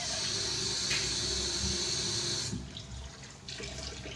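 Water runs from a tap in a steady hissing stream for a couple of seconds, then cuts off, leaving faint clinks.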